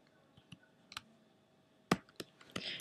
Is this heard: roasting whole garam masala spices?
no